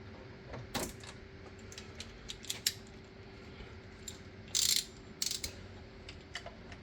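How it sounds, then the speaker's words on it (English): Torque wrench ratcheting on a Mercedes-Benz GLK350 M272 engine during a thermostat replacement, heard as faint scattered metallic clicks and a couple of louder ratchet bursts in a quiet garage, no talking. "I'm gonna lock my torque wrench down."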